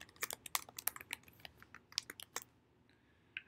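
Fingers tap quickly on a computer keyboard while filling in an account sign-up form, a faint burst of close, irregular key clicks that stops after about two and a half seconds, with one last soft tap near the end.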